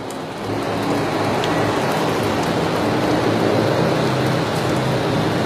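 Winter rain pouring steadily on surfaces, a dense continuous hiss of drops close by, with a low rumble of thunder underneath and no voices.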